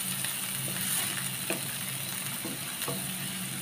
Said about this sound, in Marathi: गाजर आणि एक छोटी शिमला मिरची घेतलेली, ती पण एकदम बारीक चिरलेली. आता हे चांगलं असं परतून घेऊया.